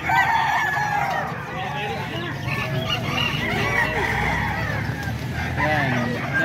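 A rooster crows loudly and close, its long call standing out over other clucking chickens in the yard, with a person talking underneath.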